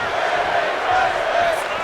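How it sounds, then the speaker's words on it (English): Virtual arena crowd in the wrestling game WWE 2K24 during a women's match, a steady broadband roar of cheering that holds at an even level throughout, with commentary speech running over it. "The crowd are loving that Lazaro is not staying off the offense."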